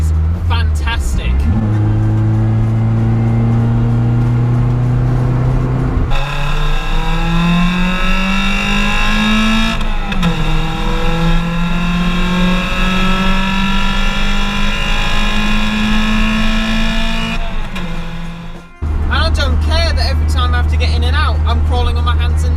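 Lotus Elise sports car accelerating hard, its engine note climbing steadily through long pulls with a sharp gear change near the end, loud and close under a man's speech.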